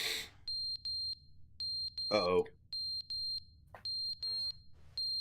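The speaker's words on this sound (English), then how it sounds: "That's a fire alarm." A fire alarm in the video game The Stanley Parable beeps in quick repeating pairs of high, piercing tones, loud and close, and a person speaks briefly between the bursts.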